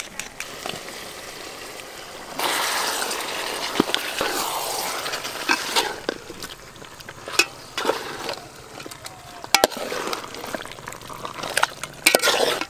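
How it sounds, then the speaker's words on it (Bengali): A spatula stirring and scraping mutton curry with onion paste and yogurt in a pan, irregular clacks and scrapes over a soft, steady sizzle, fairly quiet with no talk. "খাসি মাংসের এই রেসিপিটা করতে গেলে কুন্তি দিয়ে কিন্তু ঘন ঘন বেশ ভালো করে নাড়তে হবে"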